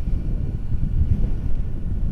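Low, steady wind rumble pushes against the microphone on a very windy night at Woomera, Australia, a deep continuous roar with gentle pulsing and no voices.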